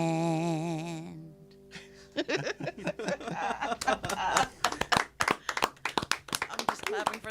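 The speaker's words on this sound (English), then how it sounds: "I'm just clapping for the hell of it because y'all are." Steady audience clapping at a live performance starts after a short sung or hummed tone and a brief pause, then continues as many separate, uneven claps, close and fairly loud, with some chuckling mixed in.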